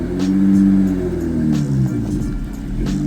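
A Mazda Miata's engine rumbles low and steady as the car drives away, a throaty motor sound that fades slightly toward the end.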